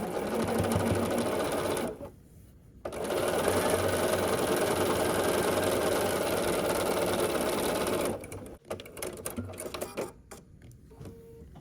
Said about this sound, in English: And then I'm going to sew this one too.